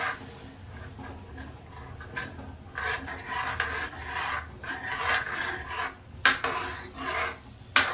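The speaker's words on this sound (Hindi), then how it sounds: "दूध को चलाना ना भूले," A spoon scrapes and rasps around a metal cooking pot of milk in repeated stirring strokes, soft and close, with a few sharper clinks.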